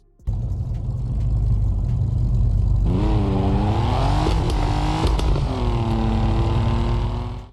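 A car drives along a Japanese highway in the mobile driving game Japan Highway Traffic Online. A loud, steady engine drone plays throughout, with rising and falling rev tones as the car accelerates and shifts.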